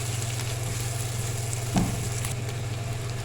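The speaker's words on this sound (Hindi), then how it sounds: "मसाला हमारा अच्छे से भुन चुका है।" Masala fries in a pan for a tikki masala, giving a steady, close sizzle with a low hum underneath and a single brief clatter partway through.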